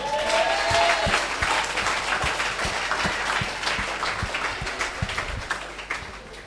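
A church congregation applauds steadily during a sermon on fasting, producing dense, continuous clapping with some sharp individual claps standing out, sustained throughout.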